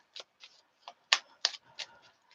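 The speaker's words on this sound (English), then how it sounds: "I'm shuffling Virgo right now" Tarot cards being shuffled by hand, a series of seven or so quick, crisp riffling snaps spaced irregularly, close and fairly quiet against silence.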